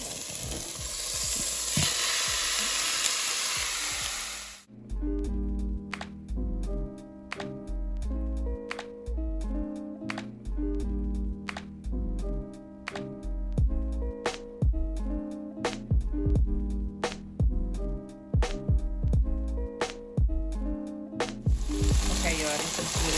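Steak pieces sizzling in a hot pan while a utensil stirs them, a steady loud frying hiss that cuts to rhythmic tapping and scraping, then the sizzle returns at the end.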